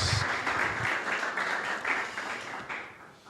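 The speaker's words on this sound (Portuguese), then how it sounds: "Pode aplaudir o Senhor" Congregation applauding during a church worship service, a steady wash of clapping that eases slightly toward the end.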